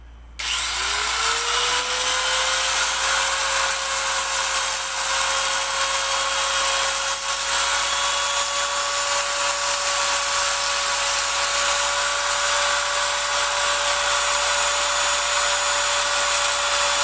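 An angle grinder cutting scrap material to make a homemade mop: a loud, steady whine that spins up at the start and then holds a constant high-pitched tone for the whole stretch, alone without speech.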